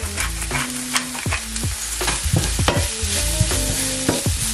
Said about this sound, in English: You just want to slowly cook it and make the onion translucent.